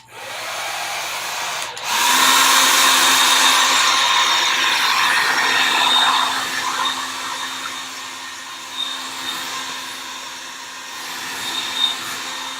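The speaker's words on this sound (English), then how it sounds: "just to get the surface prepared for my sketch, I'm going to do the whole hairdryer thing" A hair dryer runs steadily to dry a watercolor painting surface, starting abruptly after a click and holding a loud, even whoosh with a faint steady hum for about ten seconds before easing slightly.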